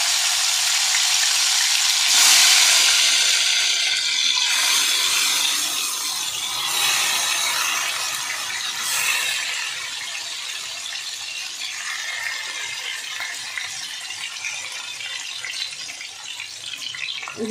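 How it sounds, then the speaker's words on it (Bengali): Raw hilsa fish sizzles in the oil left over from frying onions, making a loud, steady hiss and crackle that eases slightly after the first few seconds and continues without a break. "বেরেস্তা ভাজার যে তেলটা ছিল, ওই তেলটার মধ্যেই আমি মাছটা রান্না করে নেব"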